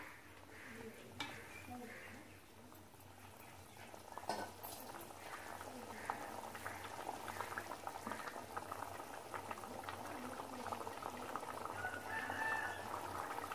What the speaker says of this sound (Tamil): கொஞ்சம் ஒரு கொதி மட்டும் கொதிக்கட்டும்